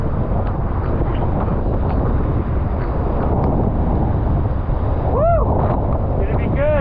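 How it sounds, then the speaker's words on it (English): Strong wind roars continuously across an open lake during a downwind foiling run, loud buffeting against the microphone with a brief whistling tone partway through. "It's looking windy out there."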